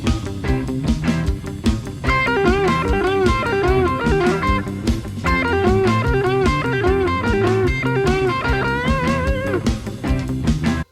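Electric guitar playing a fast pentatonic lick with pick-pull-pick phrasing, a bright sustained repeating run that fills the whole stretch, loud and alone.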